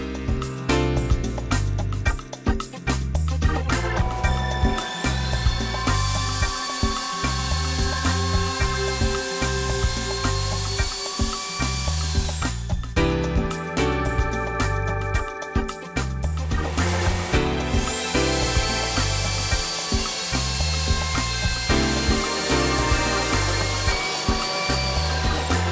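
A Hoffmann PU2-TL tilt-head dovetail routing machine fitted with a W3 router bit runs on tall mitered material, making a loud, steady whine and roar that continues throughout with only slight shifts in pitch.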